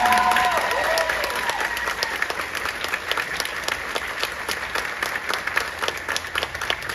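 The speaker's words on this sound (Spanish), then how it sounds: "Que sea más fuerte el aplauso, porque es para Dios la gloria." Festival crowd applause, a dense wash of clapping with distinct individual claps popping through, slightly louder at the start and continuing steadily to the end.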